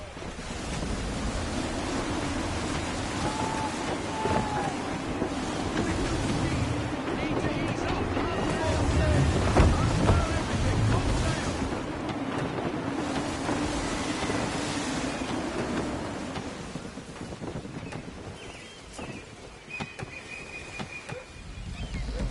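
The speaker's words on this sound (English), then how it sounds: "Gusty winds can be difficult to manage." Gusty wind at sea aboard a sailing ship in Assassin's Creed 3, a loud continuous roar of wind and surging waves rising and falling, with voices speaking over it.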